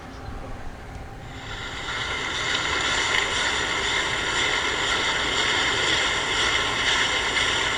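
Warship propeller noise picked up on submarine sonar, quieter and cleaner than a merchant ship with less cavitation: a steady broadband wash with faint tonal lines that swells slightly after the first seconds and then holds evenly, no voices.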